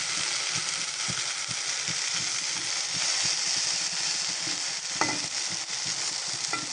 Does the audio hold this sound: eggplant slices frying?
yes